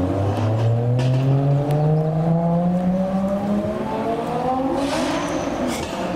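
A Lotus Exige accelerates away down a wet road, its engine note climbing through the gears while tyres hiss on the wet surface, loud at first and fading with distance.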